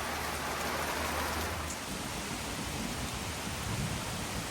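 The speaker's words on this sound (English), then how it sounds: "So we sorely needed the rain, so this is good." Steady rain pours down outdoors in a broad, even hiss that holds at the same loudness the whole time, with no voices.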